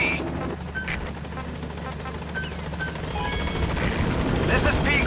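A support helicopter in a video game arrives at a landing zone, its rotor making a loud, steady thrumming drone that builds slightly toward the end, with a radio voice speaking over it.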